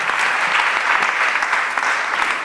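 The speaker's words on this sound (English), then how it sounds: "Clap for our panel." An audience applauding a panel at a city innovation conference, loud and dense continuous clapping from a large crowd that holds steady throughout.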